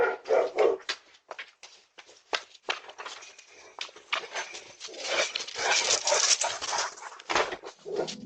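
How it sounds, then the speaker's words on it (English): A dog barks repeatedly in rapid, loud bursts, with some whimpering yelps mixed in, continuing almost without pause. "a dog started chasing him and barking non-stop"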